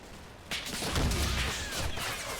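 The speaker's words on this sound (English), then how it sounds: "There's a mortar thunk." Mortar firing in the Combat Mission Fire Brigade war game: a sudden dull thump followed by a heavy, lingering low rumble that fades slowly over a couple of seconds, with no talking.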